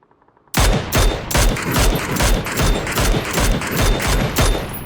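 Rapid bursts of PUBG gunfire, a dense volley of repeated shots firing in quick rhythm for several seconds, loud and close.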